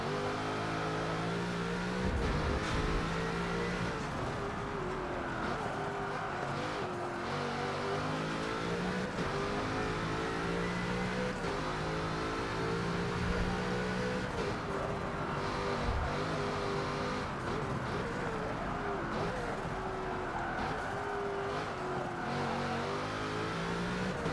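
A Bugatti Chiron engine in the racing game Forza Motorsport 7 drones steadily throughout, a whining, growling tone that rises and falls with revs and gear shifts, loud and close, with no voices.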